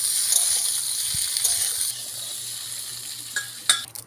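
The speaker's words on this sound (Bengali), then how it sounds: "আলুগুলো ভেজে নিচ্ছে" Potatoes frying in a pan of hot oil, a steady close sizzle with brief stirring clatters and a sharper burst near the end, no talk.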